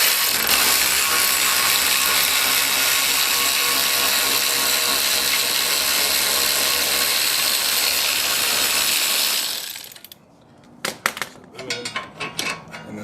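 Ratchet backing off a 15mm upper camber bolt on an S550 Mustang: a loud, continuous whirring buzz for about ten seconds, then it stops and scattered close clicks and tool handling follow.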